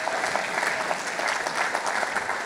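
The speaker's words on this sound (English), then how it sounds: "Round of applause." Brief burst of audience applause at a keynote panel of a conference, many hands clapping together at an even intensity for a couple of seconds.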